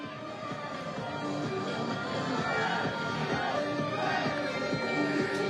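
Supporters at a Lewes versus Saltdean United football match cheer and chant in celebration, a steady, moderately distant wash of massed voices lasting several seconds.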